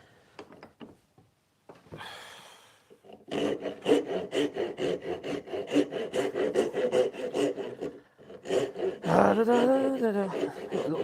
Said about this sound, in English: A little drum sander.